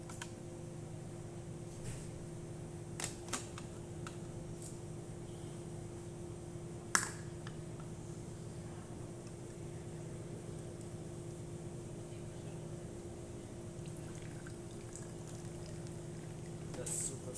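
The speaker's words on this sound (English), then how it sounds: "So let's go ahead and test it, make espresso shot on it." A rewired La Pavoni Europiccola lever espresso machine with a new pressurestat pulls a shot of coarse-ground coffee: a steady low hum and soft hiss run throughout, with a few sharp clicks and taps near the start and one more midway.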